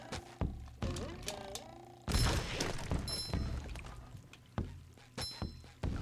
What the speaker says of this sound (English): A big dumb cannon.